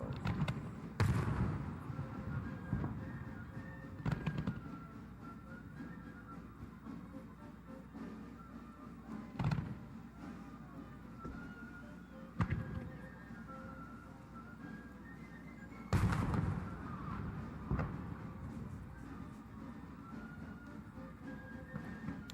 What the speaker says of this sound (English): these fireworks had to survive last night's downpour out here